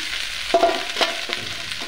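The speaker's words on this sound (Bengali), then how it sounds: "আলু ভিন্ডিটা ছেড়ে দিচ্ছি।" Potato and okra dropped into hot oil in a pan, a continuous close sizzle broken by a few sharp stirring scrapes.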